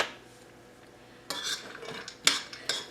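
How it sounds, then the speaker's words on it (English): Walnuts toasting in a pan, stirred with a utensil: a few light scrapes and clinks of metal against the pan over a soft background hiss, with no talking. "The first thing I have over in this pan is some walnuts, and I'm just going to toast them lightly."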